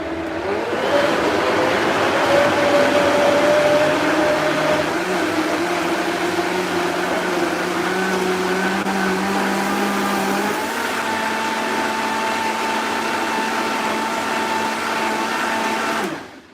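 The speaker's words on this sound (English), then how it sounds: "Well, it looks like it's blending it so far." A blender grinds a thick, packed smoothie in a loud, steady whir close by. The motor pitch shifts partway through as the contents settle, then runs on alone until it cuts off at the end.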